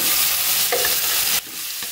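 Marinated beef hits a hot pan where crushed garlic has been frying, producing a loud, dense sizzle with stirring; the sizzle briefly quiets near the end.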